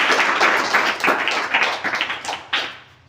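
Audience at a children's general-knowledge quiz contest breaks into close, loud clapping, a dense patter of hand claps that thins and fades over a few seconds.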